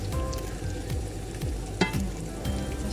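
Chicken adobo with onion and pepper sizzles in a pan while a spatula scrapes and stirs in a loose rhythm, a soft steady frying hiss with one sharper metallic clank midway, no talking.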